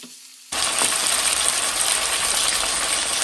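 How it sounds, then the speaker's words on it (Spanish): Beef steak drops into hot oil in a pot and bursts into a loud, steady sizzle that carries on close up and without talk. "En una cacerola vamos a agregar un chorrito de aceite y vamos a empezar a agregar bistec de res"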